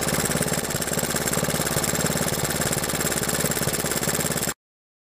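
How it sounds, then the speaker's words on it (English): A three-wheeler's engine idles steadily at close range, a rapid even chugging with a mechanical clatter, running without change for over four seconds before cutting off. "It's idling nice, but here you can see the points in action."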